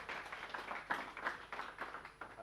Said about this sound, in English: Let's give Lisbeth an applause.